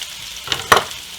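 Shallots sizzle in a hot pan: a soft frying hiss with a couple of sharp bursts of crackle as they are stirred, close and alone.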